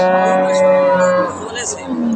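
A single Friesian dairy cow at a cattle market moos loudly and close, a long sustained low call that fades out over about two seconds.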